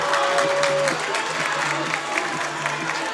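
Calvin home crowd at a Division III hockey game against Hope cheers and applauds in a steady, dense roar that fills the rink, with faint tonal whistling or horn notes and some voices mixed in.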